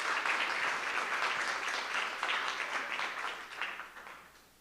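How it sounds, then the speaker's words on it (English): An audience at a school board of education meeting claps together in steady, dense applause that holds strongly, then thins and fades toward the end, with no voices over it. "let's give a round of applause for Greenbrier"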